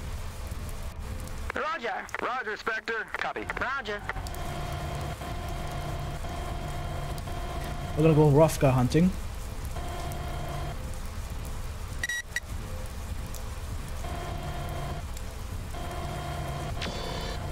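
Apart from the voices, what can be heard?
rain falling in the video game MechWarrior 4: Mercenaries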